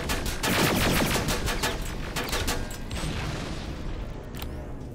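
Automated turrets in Terminator: Resistance open up in a loud, sustained burst of rapid machine-gun fire that continues steadily for several seconds, close and dense with no talking.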